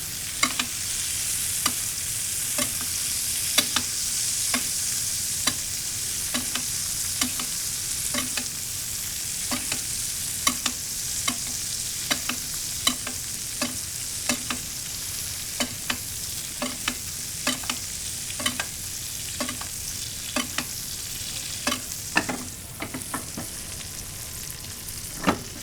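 Steak searing in a pan with butter and garlic: a constant bright sizzle with regular crisp ticks and spatters repeating about every second, close and steady throughout.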